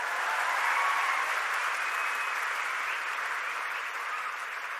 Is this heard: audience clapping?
yes